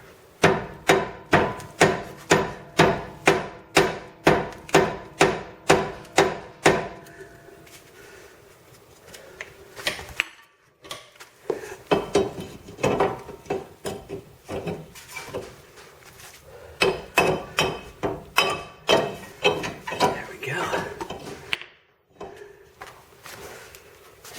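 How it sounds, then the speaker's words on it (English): A rubber hammer strikes a wheel stud on a 2007 Honda Fit in a rapid series of sharp, evenly spaced blows, pauses, then resumes in irregular bursts of strikes with brief gaps of quiet. "So I'm gonna hit it with a rubber hammer"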